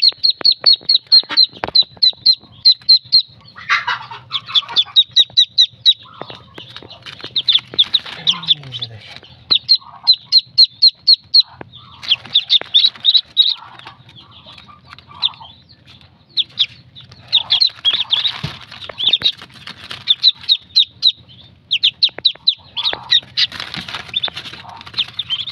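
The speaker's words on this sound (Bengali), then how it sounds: "এখানে হচ্ছে চীনা হাঁসের বাচ্চাগুলো রাখা আছে" Day-old Muscovy (Chinese) ducklings in a brooder peeping in fast, shrill bursts of repeated notes, close and loud, pausing briefly between volleys, with occasional faint low background noise.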